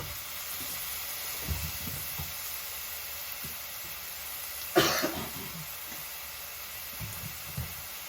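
Ingredients sauté in a pan for a creamy turkey and ham pasta, a continuous faint hiss of sizzling under quiet kitchen movements, with a brief louder burst of steam or spatter midway and a soft cough.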